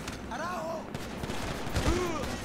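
Bursts of gunfire in the GTA 5 video game with the Euphoria ragdoll mod, fairly loud and rapid, with whooshing and other game effects layered over a busy backdrop.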